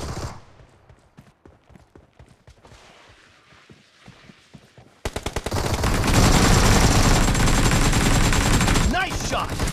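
Gunfire in PUBG: sparse single shots and short bursts give way halfway through to a loud, dense, continuous barrage of automatic fire, with faint voices in the mix.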